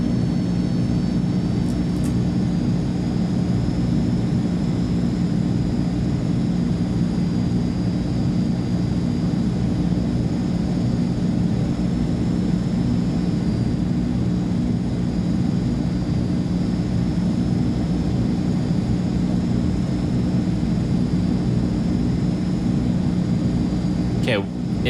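The turboprop engines of a South African Air Force Transall C-160 idle at high idle in Microsoft Flight Simulator 2020, a steady, even hum with a constant tonal whine holding throughout.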